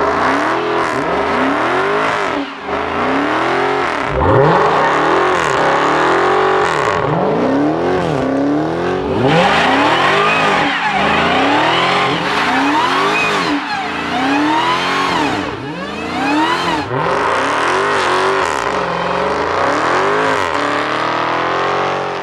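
A 2023 Dodge Charger Hellcat Redeye Jailbreak heard from outside, its supercharged engine revving hard again and again in loud, rising and falling bursts, with no talking over it.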